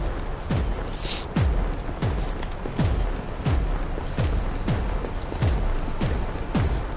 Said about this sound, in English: Enemy artillery fire incoming. I hear gunshots.